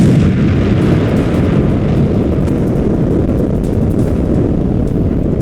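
The atomic bomb explosion over Hiroshima is rendered as a loud, dense, continuous roaring rumble. It fills the whole stretch at constant intensity with no pause.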